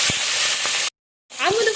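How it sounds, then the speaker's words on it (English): A piece of fish frying in smoking mustard oil in an iron karai, a loud dense sizzle that cuts out briefly and then returns. "I'm going to fry the piece of fish like this"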